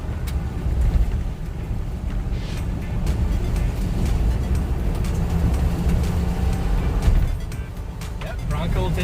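A Ford Bronco with Bilstein shocks and electronic power-assisted steering drives offroad through large holes on a forest road, its engine and road rumble steady and close throughout, with some bumps and jolts near the end.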